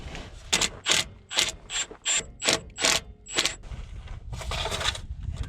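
A ratchet socket wrench turns in a run of about ten sharp, evenly spaced ratcheting clicks, close and loud, then a rougher, continuous mechanical clatter at the end.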